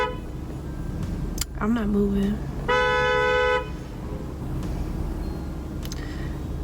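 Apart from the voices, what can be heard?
car horn honking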